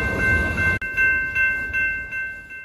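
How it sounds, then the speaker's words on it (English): A loud, rumbling freight train rolls past nearby, a steady low roar with tonal screeching overtones. It drops out sharply, then returns with faint rhythmic clanks. "waiting for both a freight train to go by in front"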